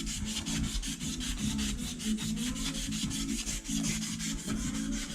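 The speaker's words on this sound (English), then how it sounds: "All you want to do is get the surface rust off of it." Emery cloth scrubbing surface rust off metal counterweights in a racing shop, a steady rapid back-and-forth rasping rub that runs continuously and close up with no speech.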